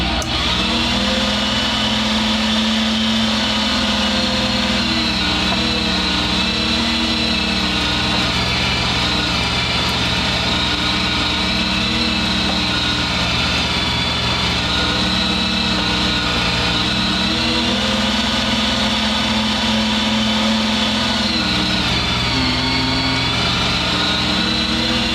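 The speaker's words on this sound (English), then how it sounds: "we're just going to grind them up into this bucket and move on from there" A grinder runs continuously, grinding fresh, still-moist beaver castor into a bucket, a loud steady motorized whine with a slow periodic drone, close up and without speech throughout.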